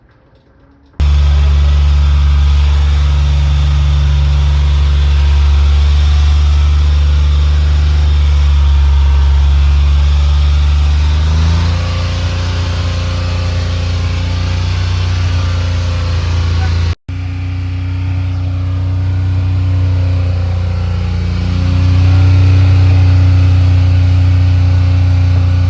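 Nissan Z31 engine running steadily while driving, smoking after a Seafoam intake valve cleaning; a loud, continuous low drone with a brief cutout midway, then resuming.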